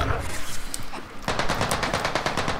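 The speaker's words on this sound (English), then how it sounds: "Yep, he's shooting at me." Enemy automatic gunfire in Call of Duty on Rebirth Island, a brief distant crackle followed by a sustained rapid burst of shots, loud and close.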